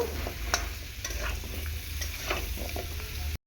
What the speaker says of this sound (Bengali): কুমড়োটা আমি দিয়ে ভালো করে একটু নাড়াচাড়া করে নেব